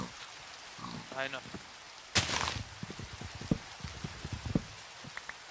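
Rain in the Minecraft video game, a soft, steady hiss running under a short spoken remark and scattered game sounds, with a brief loud burst partway through.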